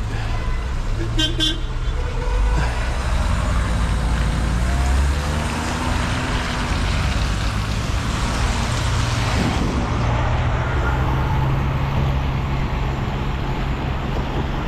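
Steady car traffic on a crowded market street in the Graba market, Algeria, during rain and thunderstorms, a constant close engine and road rumble with brief horn toots near the start, no voices.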